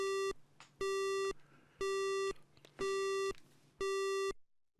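A telephone busy signal in a courtroom mystery video game, loud evenly spaced electronic beeps, five half-second tones separated by short gaps, alone without talk.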